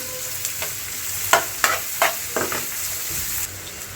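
Sliced onions fry in a hot pan while a spoon scrapes through them, making several crisp stirring strokes over a continuous sizzle, close up and with no talking.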